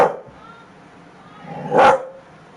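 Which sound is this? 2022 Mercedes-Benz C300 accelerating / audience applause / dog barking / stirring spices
dog barking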